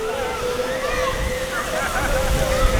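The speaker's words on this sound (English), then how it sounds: "I just got splashed by the water then" Water from a fountain outside Sheffield's city centre Town Hall splashes and sloshes in a steady, close wash of spray, with a faint voice and a hum underneath.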